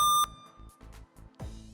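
Game show buzzer reset beeps at a quiz competition event, a sharp electronic tone followed by a series of short, quieter beeps and one more clear tone near the end.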